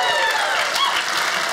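Comedy show audience clapping on cue, a steady wash of many hands across the room with some voices mixed in, loud and unbroken.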